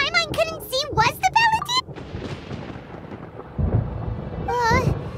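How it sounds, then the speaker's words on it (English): Thunder rumbling through a stormy scene in Genshin Impact, a deep roll swelling midway and again near the end, heard between stretches of a character's high-pitched voice. "Paimon hears thunder!"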